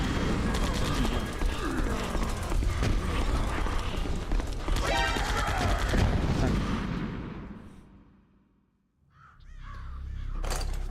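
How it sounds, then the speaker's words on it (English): Rapid gunfire and bursts of combat noise in the video game Metal Gear Solid: The Twin Snakes, loud and continuous before dropping to near silence, then resuming faintly. "I love about the Vulcan Nova miniguns is that you hear the brrr, brrr"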